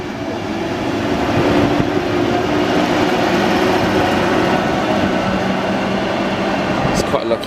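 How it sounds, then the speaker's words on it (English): Class 90 electric locomotive on the East Coast Main Line at Stevenage, a sustained broad rolling rumble of the train passing close by, steady throughout with a faint voice over it. "to London King's Cross with what looks like a special Class 90 on the end"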